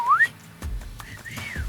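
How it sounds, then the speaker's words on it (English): A person whistles indoors: a quick rising note, then a longer arched tone after a few low thumps, close and clear with no talking. "Whistling indoors"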